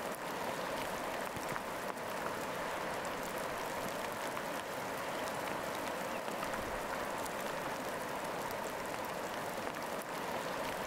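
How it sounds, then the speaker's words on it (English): Rain falls steadily on a forest in an even, dense hiss that stays unbroken and low in level throughout, with no voices. "you gaze out at the rainy forest"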